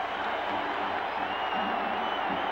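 Large baseball stadium crowd at a 1980 Dodgers–Astros NL West playoff game, a steady, dense roar of cheering that holds throughout without a break.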